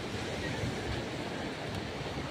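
Sea waves wash in along a beach with wind blowing over the shore, a dense, steady rushing roar that stays loud and unbroken throughout, with no voices.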